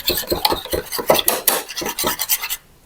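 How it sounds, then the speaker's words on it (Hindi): Batter salted for aloo tikki being whisked briskly in a bowl, a steady run of quick clinking and scraping strokes, close and fairly loud, that stops abruptly at the end. "और थोड़ा सा इसमें डाल दूंगी नमक, और इसको अच्छी तरह फेंटेंगे"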